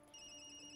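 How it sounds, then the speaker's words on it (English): A phone rings in the video game Tokyo Dark, a steady electronic ringtone tone starting abruptly and holding, brief and fairly faint. "That's my phone."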